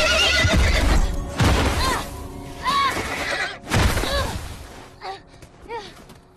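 A horse neighs and whinnies repeatedly in The Last of Us video game during a fight at a lakeside resort, the loud calls arriving in bursts alongside gunfire and game effects.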